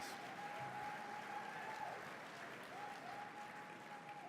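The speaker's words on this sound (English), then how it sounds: "how about a round of applause for the initiative and the luncheon and all of our past honorees" Faint, steady applause from a crowd at an awards luncheon, a soft continuous wash of clapping that holds evenly for several seconds, with a thin sustained tone running beneath it.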